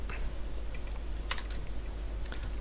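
Computer keyboard keys tapped in quick irregular bursts while writing Android app code, close and fairly quiet, with no voices.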